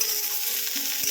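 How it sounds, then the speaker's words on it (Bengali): Young jackfruit pieces fry under a lid in a pan, giving a steady close hiss of sizzling oil with a faint clink near the end and no voices. "ঢাকা দিয়ে দিয়ে একটু ভেজে নিচ্ছি"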